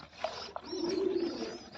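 A pigeon kept in a domestic loft gives one low, drawn-out coo, fairly faint and close, with a couple of soft clicks before it.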